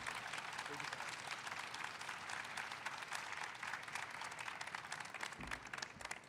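An audience applauds to welcome EPA Administrator Michael Regan at the opening of the National Environmental Museum and Education Center, with dense, steady clapping heard from a distance and a little faint crowd murmur.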